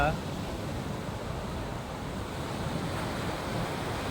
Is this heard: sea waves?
yes